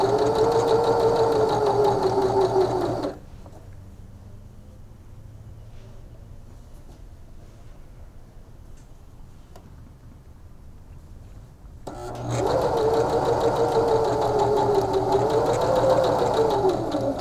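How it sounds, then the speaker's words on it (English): A sewing machine stitches bias facing around a garment neckline, with a loud steady mechanical whir that stops for several seconds of near silence and then resumes at the same even pace. "Make sure that you're stitching it about a quarter inch or right in that crease."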